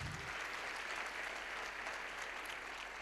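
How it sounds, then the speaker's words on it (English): An audience of young people at a youth empowerment event applauds themselves, a steady even wash of clapping that stays at a constant level throughout and is fairly faint. "Give yourself a round of applause for that."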